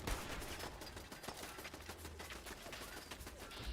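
Steady gunfire rattles through a Fallout 4 firefight aimed at a turret, rapid dense shots blending with game ambience and music for the whole stretch, loud and continuous with no voices.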